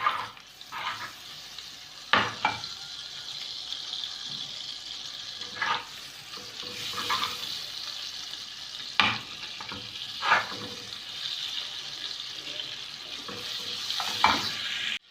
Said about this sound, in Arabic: هنقوم حاطين معلقه من الزبده، زبده او سمنه زي ما تحبوا. وعشان الزبده ما تتحرقش مني هحط لها حبه زيت كده صغيرين.